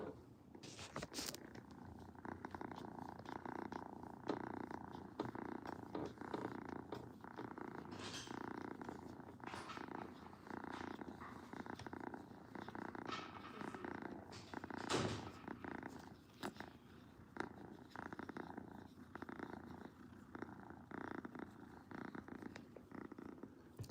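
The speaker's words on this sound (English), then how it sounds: "Now she's purring." A cat purrs steadily and close up, a low continuous rumbling that pulses with each breath, with a few soft bumps and rustles along the way.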